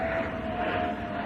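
An airplane flies overhead above a garden, a brief, steady, moderately loud droning rumble with a faint tonal hum and no speech.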